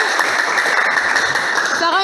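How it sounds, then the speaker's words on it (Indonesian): A classroom of students at an electronics vocational school applauds a presenting group, a dense steady patter of many hands clapping throughout, with a voice starting to speak near the end. "mari tepuk tangan untuk kelompok 4"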